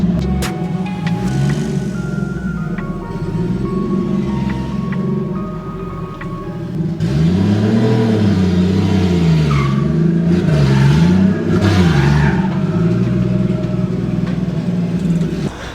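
A revving, running RB20DET engine in an offroad 240sx on a dyno, burning E85. It holds a steady loud drone that swells into rising and falling revs partway through, close and continuous, with no talking.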